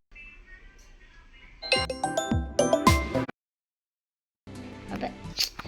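A mobile phone rings with an incoming call: bright melodic ringtone notes play loud and close for about a second and a half, then cut off, with quieter room sound before and after.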